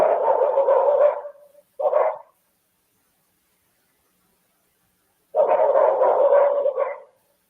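A dog barking outside a house in the early morning, a burst of several loud, close barks, a short pair, a pause of silence, then another run of barks.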